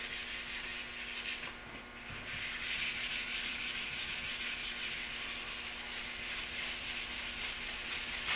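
Hood of a Duramax truck being block sanded, a steady close rasping rub of abrasive on the panel that continues almost without a break, with no talk.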